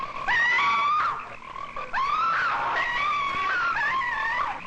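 Frogs croak and trill in the 1972 horror film Frogs, a dense chorus of warbling, rising calls that overlap continuously, loud and close, with brief pauses between bursts and no talking.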